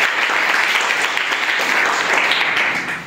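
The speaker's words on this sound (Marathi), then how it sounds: "परत एकदा टाळ्या वाजवायच्या" An audience at a school quiz competition claps in a loud, continuous burst of applause that lasts about three seconds before tapering slightly at the end.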